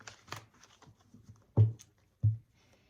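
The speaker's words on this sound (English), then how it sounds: "let's go ahead and shuffle here for Taurus" A deck of tarot cards being shuffled by hand: soft, faint riffling early on, then two sharper, louder slaps of the cards about half a second apart, with quiet between them.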